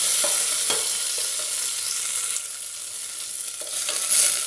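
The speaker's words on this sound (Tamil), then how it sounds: "முழு வெங்காயம் வச்சுருக்கிறதையும் இந்த ஆயிலில் போட்டுக்கிட்டோம்." A whole onion fries in hot oil for a brinjal and tomato chutney, giving a steady close sizzle with a few soft stirring knocks and no talk.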